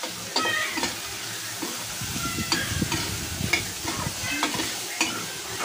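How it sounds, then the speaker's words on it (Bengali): Onions and chilies frying in a pan for a prawn and potato curry, a close, steady sizzle under repeated stirring scrapes and spatula taps throughout. "পেঁয়াজটা আর মরিচটা ভেজে নেব"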